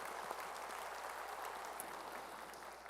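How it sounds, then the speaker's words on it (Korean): A church congregation claps together in steady, dense applause that holds at an even level for the whole stretch, somewhat distant and faint, with no voices over it. "감사하는 마음으로 박수 한번"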